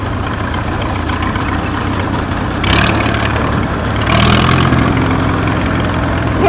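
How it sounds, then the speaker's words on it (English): A 1940 Farmall tractor, an antique, runs in a parade, giving a steady low engine rumble with slight surges in loudness, close by and alone with no talking. "We got a 1940 Farmall 8 owned by Scott Thistle"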